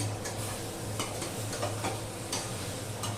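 Chicken is stir-fried in a pan, giving a steady close sizzle broken by repeated scraping strokes of stirring, with no voices.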